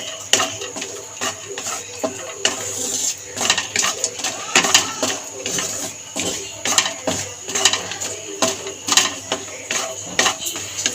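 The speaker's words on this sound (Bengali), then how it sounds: "ঘিয়ের মধ্যে প্রথমে আমি একটু কাজু বাদামটা নেড়ে ছেড়ে একটু ভেজে নেব" Cashew nuts fry in ghee while a utensil stirs them in the pan, giving rapid, irregular clinks and scrapes over a soft, steady sizzle, close and busy throughout.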